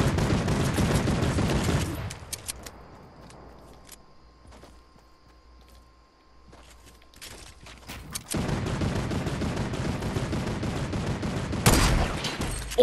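Fortnite squad match gunfire, loud sharp shot bursts at the start and end with a quieter stretch of distant game sounds between.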